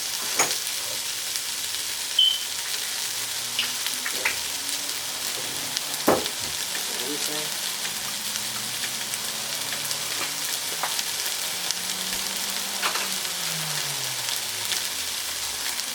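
Vegetables sweat in a hot pan for Vietnamese curry with a continuous close sizzle, a few soft clinks and a low hum underneath.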